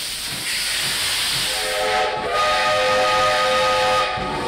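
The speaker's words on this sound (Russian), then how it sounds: "Поезд Победы в Севастополе." Steam whistle of the Victory Train in Sevastopol, a sustained loud harmonic blast over hissing steam, briefly dipping around the middle before continuing.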